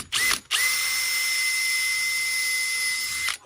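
A power driver whirs steadily as screws are driven in while installing a concealed vertical rod panic bar, with one short burst, then a long continuous high-pitched run, loud and close.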